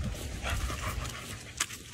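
A dog pants in quick, soft, rhythmic breaths close by, fairly quiet against low background noise.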